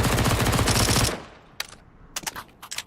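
A submachine gun in Counter-Strike 2 fires a loud, very rapid burst for about a second, followed by a few scattered quieter clicks and shots.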